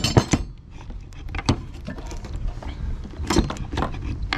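Metal parts of a Hoshizaki ice machine water pump clink and clatter as they are reassembled, with a few sharp knocks over a steady low mechanical rustle, close up and moderately quiet.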